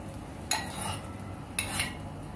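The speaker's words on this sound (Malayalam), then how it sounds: "നമ്മൾ ഒന്ന് ഇളക്കി കൊടുക്കാം." Banana flower stir-fry being stirred in a pan, two distinct scraping strokes of a utensil against metal about a second apart over a low background hiss.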